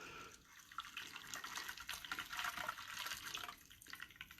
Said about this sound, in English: I'm going to pour this bad boy into my martini glass.